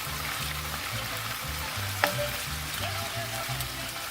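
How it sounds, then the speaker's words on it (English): Pozole ingredients frying and browning in a pan, a steady close sizzle broken by rhythmic scrapes and clinks of a spoon stirring, with one sharp metallic tap midway. "just cook this up until we get everything nice and brown"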